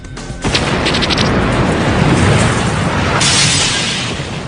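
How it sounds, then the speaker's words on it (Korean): A bomb blast outside the US embassy in Kenya, restaged for a documentary, hits as a loud, sustained rumbling boom with crackling debris that rolls on for several seconds. "폭발로 인해 세 블록 안의 모든 창문이 산산조각 납니다."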